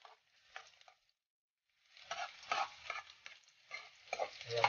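Chopped garlic hits hot oil for a Filipino banana-blossom omelette with chilli, giving soft, intermittent sizzles and stirring scrapes, faint at first, then a brief lull before a louder, steadier crackle returns.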